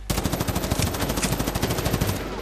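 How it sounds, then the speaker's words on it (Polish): Rapid automatic gunfire from a multiplayer match of Medal of Honor: Warfighter rattles in a continuous close burst of evenly spaced shots, loud and unbroken for about two seconds. "Słyszę strzały."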